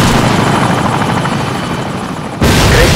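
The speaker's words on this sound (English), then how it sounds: "Take out that helicopter." A loud, close helicopter in LEGO Modern Warfare, its rotor thumping in a steady pulse before the sound cuts abruptly and shifts to a fuller roar near the end, with no talk.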